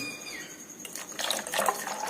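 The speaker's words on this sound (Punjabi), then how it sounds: "ਲਓ ਜੀ ਪਾਣੀ ਪਾ ਦਾਂਗੇ ਇਹਦੇ ਵਿੱਚ" Water splashes and gurgles into a jug of ice while mint sharbat is being made, starting softly and growing into a fuller, nearby burble over about two seconds, with no talk.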